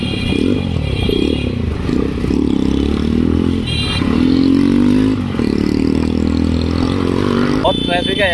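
A Yamaha MT-15 motorcycle engine drones and revs up close on a busy road in traffic, loud and continuous with rising pitch swells, while a rider talks over it.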